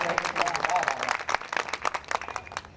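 An audience at a Hindi kavi sammelan poetry gathering breaks into fairly faint applause, with crowd clapping running continuously throughout and slightly irregular in rhythm.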